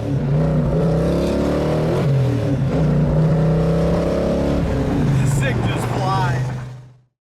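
A 1970 Dodge Challenger accelerates hard from a peel-out, its loud V8 engine note rising steadily and then dropping back into a sustained rumble. Voices talk under the engine near the end.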